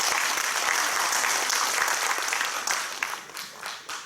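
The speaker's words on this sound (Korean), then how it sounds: "우리 은사님 나올 때 큰 박수로 맞이하겠습니다." Warm applause from a congregation at a Korean church thanksgiving service for an alumni association, welcoming a pastor to the pulpit; dense steady clapping that thins and fades toward the end, no talk.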